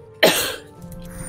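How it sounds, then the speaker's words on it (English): A single sharp cough bursts out close to the microphone, followed by a short throat-clearing rasp that fades quickly. "I was coughing"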